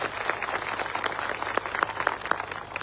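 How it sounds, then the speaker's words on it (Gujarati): A crowd at a political rally in Valsad applauds police officers with steady, moderately distant clapping that holds throughout. "એવા તમામ પોલીસ અધિકારીઓ માટે એકવાર જોરદાર આપણે તાળીઓ પાડી લઈએ"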